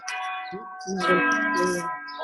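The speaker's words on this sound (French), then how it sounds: "On entend les cloches de Strasbourg, là" Strasbourg church bells ring with sustained, overlapping metallic tones, while a voice speaks briefly over them.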